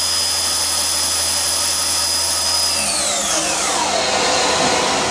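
A KSI SQC-38 CNC Swiss lathe spindle runs at 5,000 RPM, heard from close by as a loud, smooth, steady whine whose tone then sweeps downward as the spindle slows.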